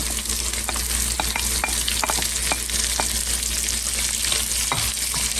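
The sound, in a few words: onion frying in rendered bacon fat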